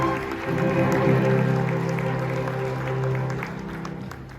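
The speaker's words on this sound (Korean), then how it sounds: "다시 한번 뜨거운 박수를 보내주시기 바랍니다" Applause from wedding guests in a hotel ballroom for a couple's entrance, a steady loud wash of clapping with a low sustained hum of music or crowd beneath it.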